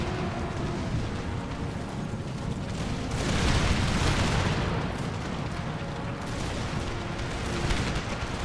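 Dense, continuous roar of massed artillery and musket fire in an Empire: Total War battle, a loud sustained rumble with overlapping booms swelling around the middle and end.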